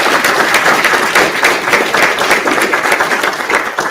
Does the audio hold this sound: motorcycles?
no